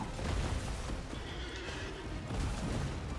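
A horse neighs loudly in Elden Ring during a mounted Tree Sentinel boss fight, a whinny with hoof clatter over dense, steady battle noise throughout.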